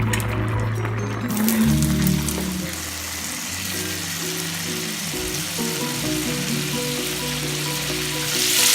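Scallops sear in a hot pan with a steady, close sizzle and crackle, while music plays underneath throughout.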